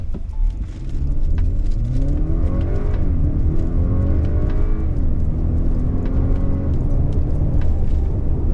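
A 2021 Acura RDX A-Spec SH-AWD accelerates hard in Sport Plus mode with paddle shifting. The engine is heard from inside the cabin, its loud rising whine climbing through several gear changes.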